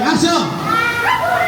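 Children at a seventh birthday party at a private resort imitate a dog barking with their voices, giving rising and falling yelping calls close to the listener, with other children talking around them.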